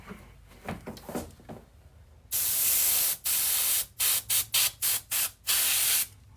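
An airbrush sprays black face paint in sharp bursts: soft background sounds first, then one long loud hiss followed by a quick run of short, close spray bursts separated by brief pauses.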